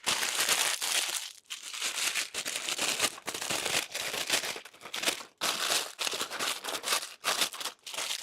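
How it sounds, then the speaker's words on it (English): Parchment paper crumpled up by hand to mold it into a baking dish for homemade granola, giving a continuous close crinkling and crackling with short pauses, alone without talk. "it's really easier to get parchment paper to fit molded into whatever dish you're using if you crumple it up first"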